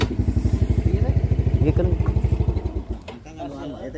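A motorcycle engine runs close by with a loud, rapid, regular thumping pulse that slows and fades near the end, as a voice speaks briefly over it.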